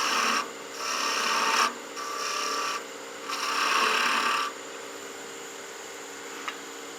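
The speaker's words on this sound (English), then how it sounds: "Continue with some more planing cuts here with the smaller skew." Smaller skew chisel taking planing cuts on a wood lathe while turning a gnome Christmas ornament, giving three steady raspy passes of a couple of seconds each with short pauses between, close and fairly loud, no talk.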